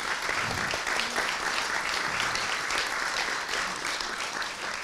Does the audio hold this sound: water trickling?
no